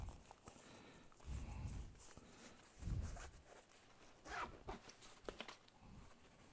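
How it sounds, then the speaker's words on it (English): Tight zippers on a gear bag are pulled open in several short, rasping bursts, close and fairly quiet, mixed with handling rustles and small clicks. "These zippers are really quite tight."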